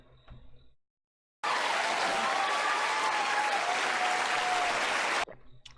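Applause from an audience at a town hall event, a sudden loud burst of dense clapping that holds steady for about four seconds, then cuts off, with faint talk before and after.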